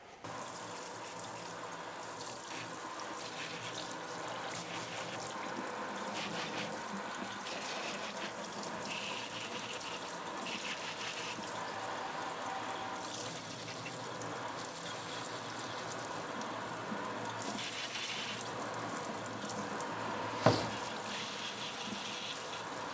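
Tap water runs steadily into a sink for a plant watering, a continuous broadband rush with a brief clunk near the end, no talking.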